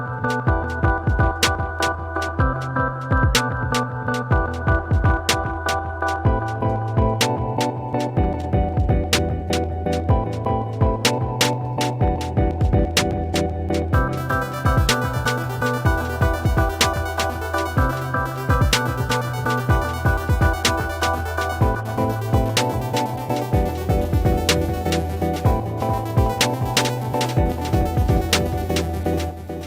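A demo recording of a song plays throughout, built from a simple melody, drums and a couple of synths. A steady beat carries on under the melodic layers, and the high-end sound grows fuller halfway through.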